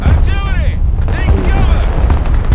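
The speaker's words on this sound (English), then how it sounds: "Artillery!" Artillery fire in the Broken Arrow war game, heavy low booms and rumbling impacts rolling continuously beneath urgent shouting voices.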